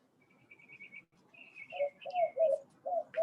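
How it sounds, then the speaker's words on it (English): Birds singing outdoors in the morning, thin high chirps early on giving way to louder, repeated mid-pitched calls, coo-like, in short bursts over a soft rustling background. "Maybe you hear the birds that have decided to join us this morning."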